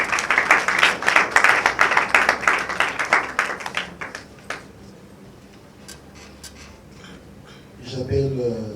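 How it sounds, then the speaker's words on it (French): Audience applause at an evening gala bursts up loud and dense at first, then fades into scattered claps and thin, sparse sounds, before a brief swell of noise returns at the end. "je vous demande de pouvoir applaudir très très fort."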